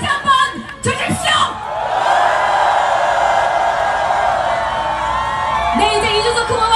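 Supporters at a Lee Jun-seok campaign rally roar with sustained cheering and whoops, following a few sharp shouts at the start and swelling again toward the end.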